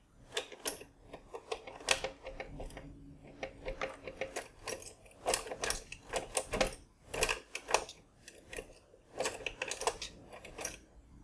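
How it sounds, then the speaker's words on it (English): Metal latches clicking and clunking inside a Vaultek gun safe as it is probed open, a run of close, irregular mechanical taps and rattles with no speech. "I can hear the latches moving."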